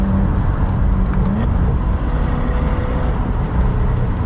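A 2022 Chevrolet Corvette C8 engine while driving, heard from inside as a loud, steady low rumble and road roar that holds evenly throughout.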